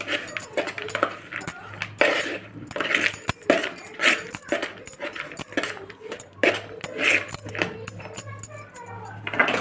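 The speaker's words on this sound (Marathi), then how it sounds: "हे सर्व हलवून घ्यायचं आहे।" Potatoes being stirred with cumin powder and red chili powder for aloo chaat, utensil clinks and scrapes repeating irregularly against the pan throughout, fairly close and steady.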